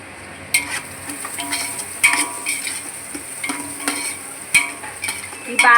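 Onions frying with salt and turmeric for fish curry, a soft steady sizzle broken by repeated metal spoon scrapes and clinks against the pan, close and fairly loud.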